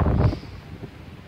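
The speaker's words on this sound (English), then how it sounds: "Sorry about the wind." Heavy wind buffeting the microphone outdoors in Missouri in a loud low rumble that gusts at the start, then eases to a softer rustling roar.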